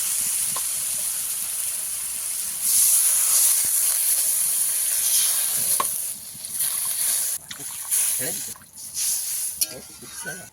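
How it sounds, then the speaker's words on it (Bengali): Water hits a pan of sizzling fish curry masala, setting off a loud burst of steam and hissing that continues with stirring scrapes and uneven crackle, while a person speaks over it. "ভালো করে কষিয়ে নিয়েছি। এবারে জল দিয়ে দেবো।"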